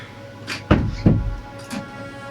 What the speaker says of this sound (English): Can you shut that door, please?